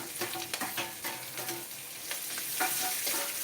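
Onions sauté in ghee in a pan, with a steady crackling sizzle and occasional stirring scrapes throughout.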